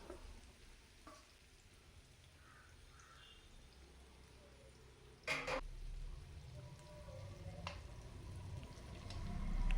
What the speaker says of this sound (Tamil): எண்ணெய் சூடானோனையும் இதை போட்டு அப்படியே பொரித்து எடுத்துடலாம்